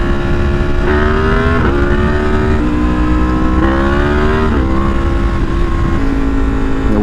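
A Yamaha MT10 motorcycle engine drones loudly and close while riding, its pitch climbing and dropping in repeated stepped surges as the rider works through throttle and gears, with wind noise underneath.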